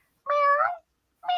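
A cat gives one drawn-out meow, then starts a second after a short pause. Both calls are close, clear and alone.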